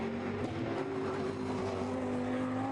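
GT3 race cars thunder past on the Zolder circuit, a loud steady engine roar with whining tones holding throughout, close and continuous with no talking.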